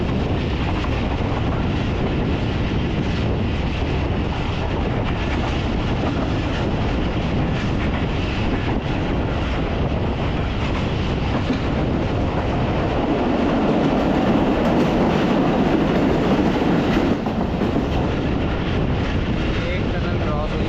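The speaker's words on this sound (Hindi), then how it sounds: "ये सुहावा की पहली छोटी टनल आ रही है, आपको शायद नज़र भी आ रही है। इसमें अभी ट्रेन इंटर हो रही है" Pakistan Express passenger train running between Rawalpindi and Dina near Suhawa as it enters a short tunnel: a loud, steady roar of rails and carriages with wind buffeting, deepening into a boomier rumble partway through, with no talk.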